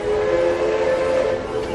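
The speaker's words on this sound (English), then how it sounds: "That's the train making noise." A train at the Knott's Berry Farm ghost town gives a loud, steady whistle that holds for the whole moment.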